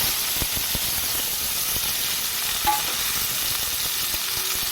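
Fish tossed into a pan with lightly browned garlic: a loud, dense, continuous sizzle and hiss of hot oil, close up, with faint ticks of movement and one brief clink partway through.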